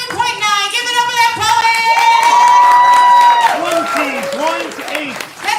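Audience at a poetry slam claps and cheers for a poet, steady applause filling the room while a host's voice rises over it with sustained calls.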